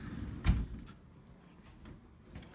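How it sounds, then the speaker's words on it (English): An office door swung open, a single soft thud and creak near the start, followed by quiet room noise and faint small knocks, close and low in level with no one talking. "let me go and swing this door the other way"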